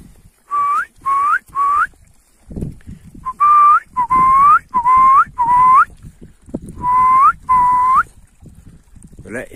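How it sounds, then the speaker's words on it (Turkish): Short, rising two-tone whistles from a person calling donkeys and cows to drink, repeated in bursts, three quick calls, then several more in a row, loud and close over faint outdoor rumble and wind. "Böyle eşek ve ineklere bu şekilde ıslık çalınca su içme isteklerini uyandırıyoruz"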